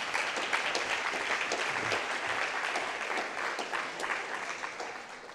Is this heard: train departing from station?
no